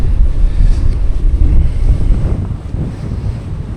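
Strong headwind roars steadily across the microphone of a cyclist riding a road section on a night audax around Scarborough, a loud continuous low buffeting with no talk.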